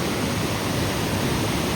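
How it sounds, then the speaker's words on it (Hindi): Rushing waterfall and fast-flowing mountain stream near Kedarnath, a loud, close, continuous roar of water with no voices. "देखो जहाँ पूरा झरना बह रहा तो वहाँ नहीं नहाना"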